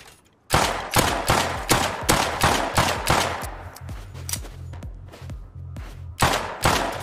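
Loud gunfire in a shooter video game comes as a run of about a dozen sharp, closely spaced shots in a steady rhythm, with a short pause before a final few bursts.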